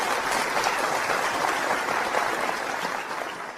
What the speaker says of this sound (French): Applaudissez-la fort!